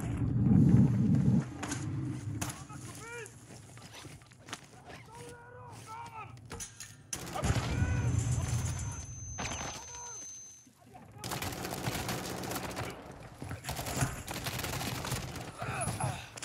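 Bursts of shotgun fire from aggressive bots in a Call of Duty match, loud repeated blasts and crackling volleys scattered across the scene, with someone talking over much of it.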